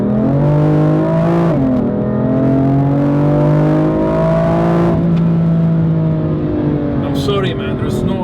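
A BMW M4 Competition engine revs hard while driving, the pitch climbing through gears with shifts and a sustained loud engine note heard from inside the car, with a voice talking over it.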